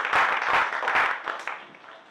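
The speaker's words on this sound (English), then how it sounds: "Makeup by Sonal and Leah deserves a huge round of applause." Theatre audience applauding after a stage show, a brief burst of dense clapping that swells quickly and then thins out and fades.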